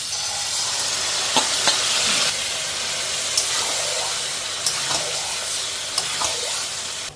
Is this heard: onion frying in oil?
yes